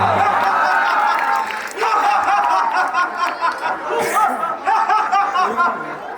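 An audience at a village drama club staging of the Ramayana's Tadka slaying and Sita's swayamvar in Kartarpur breaks into applause mixed with laughter and chatter, the rough clapping swelling and fading around the crowd noise.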